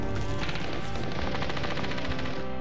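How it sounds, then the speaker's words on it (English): Dense, continuous machine gun fire in wartime Sarajevo, a loud sustained roar of rapid shots with no pauses. "The gun machine, the sound of all the night long."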